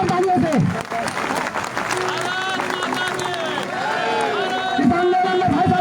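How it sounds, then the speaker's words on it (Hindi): Loud crowd applause at a large protest rally at Jantar Mantar, continuous and dense, mixed with overlapping voices and tonal chatter from the gathering. "जोरदार तालियों से।"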